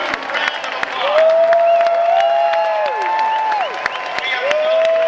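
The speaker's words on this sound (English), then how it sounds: "Give yourselves a huge round of applause." Large crowd of AIDS LifeCycle riders in California applauding and cheering together, sustained dense clapping with whoops, a steady wash of applause over a few seconds.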